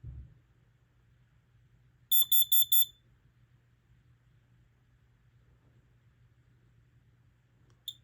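A Kidde KN-COSM-IB combination smoke and carbon monoxide alarm gives a short, loud burst of four shrill, evenly spaced beeps over a low steady hum, with near silence before and after.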